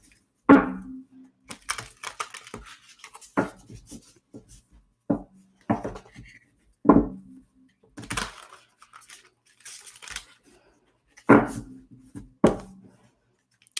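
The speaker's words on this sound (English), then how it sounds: "We'll shuffle one more." Tarot cards are shuffled and riffled in short, separate bursts of crisp paper slapping and fluttering, close and fairly quiet, with gaps of near silence between the bursts.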